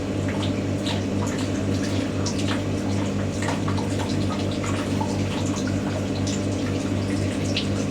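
Water running steadily inside a Hotpoint WD64 Aquarius washer dryer partway through a full-heat drying cycle, a continuous close wash of trickling, splashing water over a low machine hum with no pauses.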